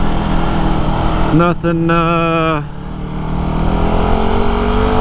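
A Yamaha WR250R motorcycle engine drones close by, with a rising revving whine in the middle and then a steady running note, while a rider talks over it.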